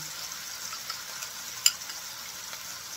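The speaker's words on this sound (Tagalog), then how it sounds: "Dito na natin ilagay ang ating sauce." Sauce sizzles in a pan of browned tofu niku hasami, giving a soft continuous crackle with a few small pops and one sharper tick, faint and close, with no talking.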